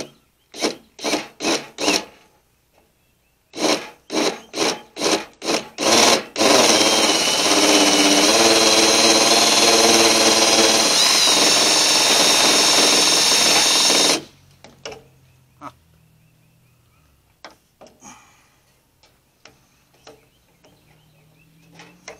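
A power drill bores holes in the rear of a Chevy Blazer while taillights are swapped and a rear filler cover is fitted: quick rasping bursts, then a loud, steady grinding run of about eight seconds, then scattered fainter clicks, with no talk.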